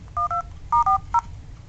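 Touch-tone dialing beeps from a 6-inch PadPhone with a 1 GHz dual-core MTK6577 chip, five short clear tones in two quick pairs and a single, close and crisp over faint background hum.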